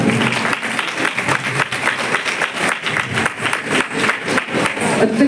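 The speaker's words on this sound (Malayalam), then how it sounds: "ആര്യയ്ക്ക് എല്ലാവരും വലിയൊരു കയ്യടി കൊടുക്കുക" An audience at a dance and music school event gives steady, dense applause that stays loud and continuous throughout, with many hands clapping together.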